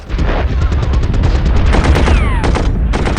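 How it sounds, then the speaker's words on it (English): Cavalry opens fire in the World War I strategy game Commander: The Great War, a dense, loud volley of overlapping gunshots and booms that runs continuously, with a whistling projectile sweep near the end. "we'll even actually open fire on it with our cavalry unit"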